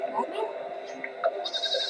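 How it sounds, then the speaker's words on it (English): Goats bleating at a Viking family gathering, short wavering cries close by, mixed with voices talking over them. "Look at the goats."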